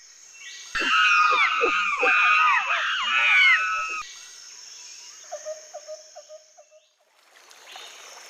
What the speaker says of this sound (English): They're monkeys.